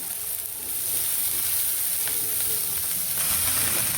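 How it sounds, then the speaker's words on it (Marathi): Green chickpea leaves drop into a frying tomato-onion masala, and a steady close sizzle and hiss builds after the first half second and continues alone. "यामध्ये आपण आता हिरवी भाजी टाकून घेऊया मस्त शेंट सुटलेला आहे मसाल्याचा आणि हिरवी भाजी टाकून घेते थोडी थोडी करून"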